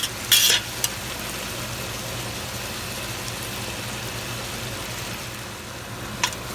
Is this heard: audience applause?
no